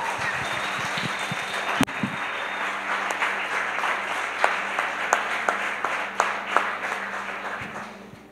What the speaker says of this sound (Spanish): Ese aplauso es para Él.